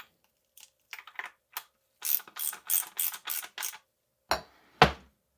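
A socket wrench ratchets on a bolt of a 2021 Fox Factory Float 34 bicycle fork: scattered clicks at first, then a quick run of sharp, close ratcheting bursts and two louder final clicks.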